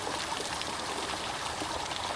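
Creek water flowing steadily at night, a continuous close rushing and babbling wash with no pauses and no voices over it.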